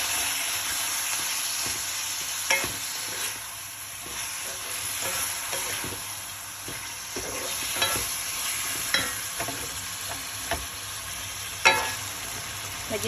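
Chicken for adobong manok goes into a hot pan and sizzles steadily while being stirred, with repeated scraping and clacking of a spatula against the pan at an uneven rhythm, close and fairly quiet, with no speech.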